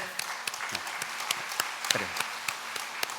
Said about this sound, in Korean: 우리 학생들 축복하며 우리 크게 박수로 격려하시겠습니다